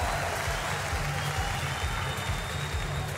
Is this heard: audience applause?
yes